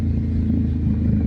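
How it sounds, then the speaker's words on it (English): An Indian motorcycle's engine rumbles low and steady at close range, a continuous throaty drone with slight pulsing as it shifts down, no voices present. "The downshifts on this bike are just absolutely filthy. They sound so freaking good."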